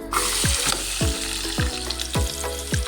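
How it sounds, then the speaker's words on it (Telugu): A cup of onions fries in hot oil in a kadai, a close, loud, steady sizzle with a ladle scraping through about five times at an even rhythm, with no speech. "ఇది ఆయిల్ హీట్ అయిన తర్వాత 1 కప్పు ఆనియన్స్,"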